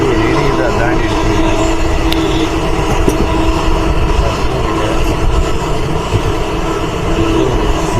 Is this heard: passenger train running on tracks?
yes